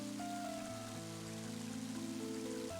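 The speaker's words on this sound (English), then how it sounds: "And now it's starting to rain." In-game rain from the video game Mother 3, a soft steady hiss of falling drops beneath sustained synthesized background music tones, faint and continuous throughout.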